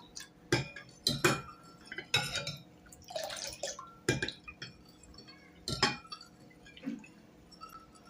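A spoon stirring buttermilk spiced with ginger and black salt in a vessel, giving repeated close metallic clinks and taps against the rim with wet swishing between them.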